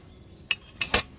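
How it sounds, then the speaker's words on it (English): Potion pot bubbling in the video game Kingdom Come: Deliverance II: three short, sharp pops arrive about half a second apart, the last one loudest, over a quiet background. "It's boiling."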